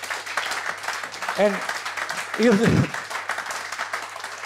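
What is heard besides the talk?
audience applause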